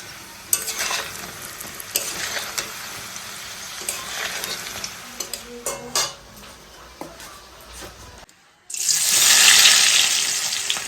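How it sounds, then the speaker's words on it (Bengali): Paneer frying in a pan gives a close, crackling sizzle with stirring clatter, followed by a brief quiet and then a louder burst of hissing at the end. "চলো পনিরগুলোকে ভেজে নিই।"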